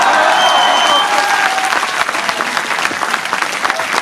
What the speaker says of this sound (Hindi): इसमें जो भी लोग ताली नहीं ना बजाते उनको छठी मैया पाप देती है।